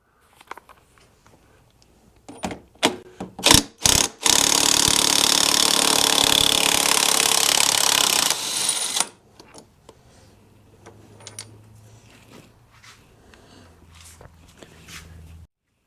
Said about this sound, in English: And now we can take that bolt out, and I believe that is 27 millimeters.